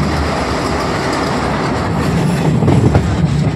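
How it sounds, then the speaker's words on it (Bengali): A local train rolling into Dankuni junction, heard from on board: a loud, steady rumble of wheels and carriages, with rhythmic clatter building slightly toward the end. "ডানকুনি ঢুকছে ট্রেন"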